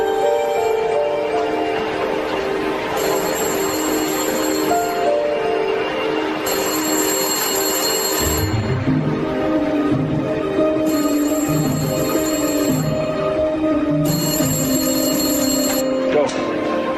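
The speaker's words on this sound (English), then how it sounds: "Find the phone near the clock. It's going to ring in 30 seconds." A telephone rings in a movie scene, several bursts of bright bell-like ringing at regular intervals over dialogue and a sustained musical score.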